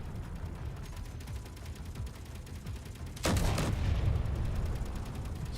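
Heavy assault cannon fire from a warship in Space Engineers, a dense roar of rapid shots that swells into a loud, sharp blast midway and then rumbles on, with no talk.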